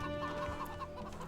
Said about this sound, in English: So Starko's got the chickens pretty much gathered at this point